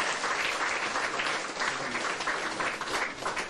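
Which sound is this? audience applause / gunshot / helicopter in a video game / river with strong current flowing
audience applause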